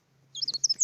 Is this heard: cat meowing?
no